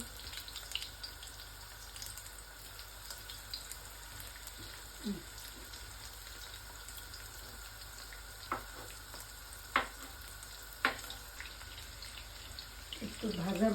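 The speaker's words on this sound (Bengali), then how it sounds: "ভাজা হোক" Food frying in a pan in a home kitchen: a steady low sizzle runs throughout, with occasional clinks and stirring knocks, fairly quiet.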